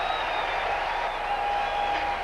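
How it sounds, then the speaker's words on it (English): Baseball fans clapping in the stands at a 2001 Reds versus White Sox game, a steady, distant wash of applause and crowd noise with no voices standing out. "And the fans are clapping too."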